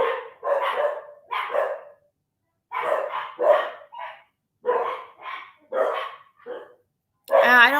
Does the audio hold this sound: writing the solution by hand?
no